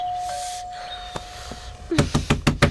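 A two-tone electronic chime rings out, followed by a rapid series of sharp knocks, close and loud, against a quiet room.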